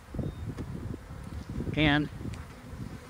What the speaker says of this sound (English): it's been loud with the bees all over the microphone